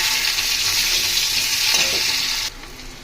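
Loud, dense sizzling of onions frying in hot oil, cutting off abruptly and dropping to a quieter hiss near the end.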